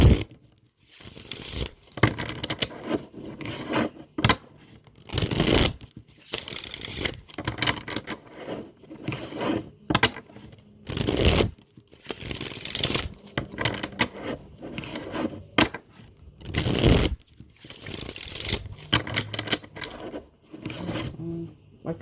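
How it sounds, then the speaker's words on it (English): Tarot cards being shuffled by hand: repeated riffling and rubbing card noises come in irregular bursts with short pauses between, close and moderately loud, with no talking. "Normally, as I'm shuffling the cards, I'm asking"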